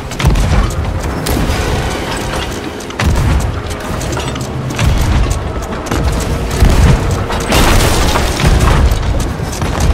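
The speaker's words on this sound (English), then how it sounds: "That cannon almost hit me in the face." Repeated heavy booms of ship cannon fire in Sea of Thieves, several deep blasts in close succession over a dense, noisy battle mix.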